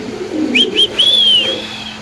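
Nearby pigeons call briefly: a soft low cooing under a couple of short whistling notes, then one longer drawn-out tone.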